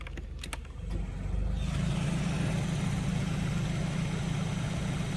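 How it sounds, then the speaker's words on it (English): A 2005 Scion tC ventilation blower motor running on its low setting, a steady whooshing hum that rises in the first second and then holds even and close, with a few light clicks at the start. "Let me go ahead and turn on the blower motor on low."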